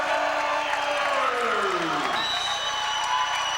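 A crowd at a 2009 NCAA Division I men's volleyball match between Pacific and Hawai'i cheers and applauds at match point, a sustained wash of clapping and voices from a large indoor audience.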